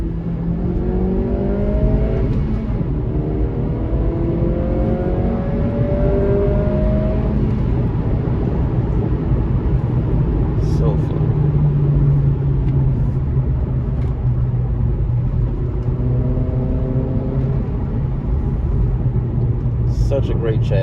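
2023 Acura Integra at full throttle, heard from inside the cabin: a loud, steady engine drone with rising whines as it pulls through the revs, a broad rumble underneath, no break in the sound.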